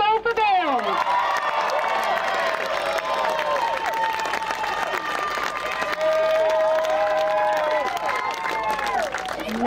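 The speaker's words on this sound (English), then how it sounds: "Big round of applause for Diocesan School for Girls." Applause and cheering at a rowing regatta medal ceremony for the Diocesan School for Girls under-18 novice coxed eight, steady crowd clapping with high excited shouts and voices throughout.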